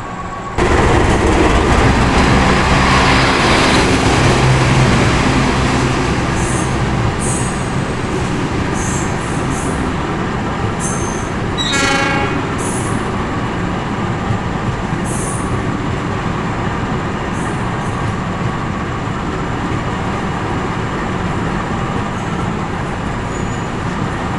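A passenger train rumbles past close by on a neighboring track while a stopped overnight train waits, a long loud roar of wheels with brief metallic squeals partway through.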